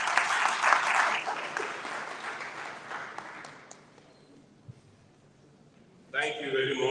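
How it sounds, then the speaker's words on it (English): A symposium audience of the Knights of St. John International gives a round of applause, loud at first then thinning and fading over several seconds before a voice begins speaking near the end. "Please round of applause."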